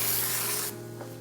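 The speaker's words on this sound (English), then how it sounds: "we are going to be professionals with our releasing agent. And just spray this all over it" A close, steady hiss of releasing agent sprayed over a mosaic mold cuts off abruptly partway through, leaving a faint low hum behind.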